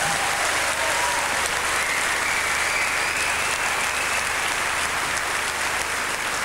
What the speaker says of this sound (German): Das ist nochmal ein Applaus wert.